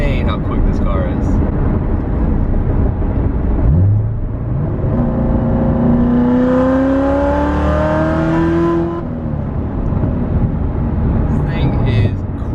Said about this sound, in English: just like a 2-second pull in third gear, and just hauls ass over 100 mile an hour in no time